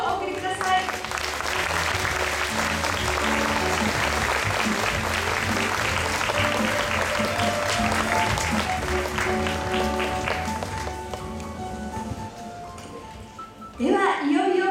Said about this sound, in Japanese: 今一度盛大な拍手をお送りください。